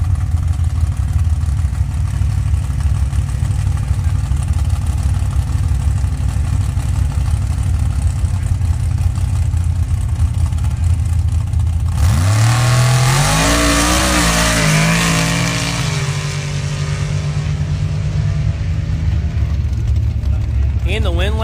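Chevy trucks launching at a drag strip during pro bracket eliminations at a spring nationals event, idling engines giving way to a loud roar as they accelerate away; an announcer talks throughout.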